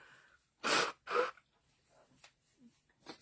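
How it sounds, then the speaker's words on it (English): Two quick sneezes in close succession, near and sharp, followed by softer breathing and snuffling. "I'm sure I'll have more sneezes along the way."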